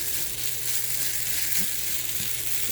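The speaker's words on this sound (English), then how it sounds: "Then we're just kind of browning the noodles now a little bit." Noodles browning in a hot pan with sesame oil, soy sauce and sesame seeds, alongside wild mushrooms, give a steady close sizzle with faint stirring scrapes and no talk.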